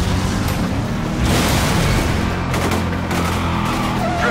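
Continuous booming blasts and crackling bursts overlap in a dense, loud barrage, with heavier thuds at a few points, from explosions in the video game Stuntman: Ignition.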